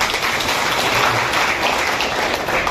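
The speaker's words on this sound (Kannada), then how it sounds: "ಚಪ್ಪಾಳೆ" An audience at a Kannada literary society founding-day event breaks into applause, a dense, loud wash of clapping sustained evenly through the moment without any voices.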